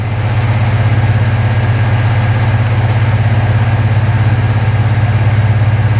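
A Mini Moke engine idles fast and rough, with a loud, steady, low throbbing rumble close by, no speech.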